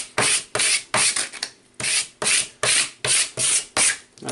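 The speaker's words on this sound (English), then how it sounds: "give it some good firm presses to make sure that the vinyl is going to stick" Repeated firm rubbing presses on vinyl laid onto application tape for a custom cut vinyl sign, about nine short scraping strokes in a steady rhythm, close and fairly loud, with no talk.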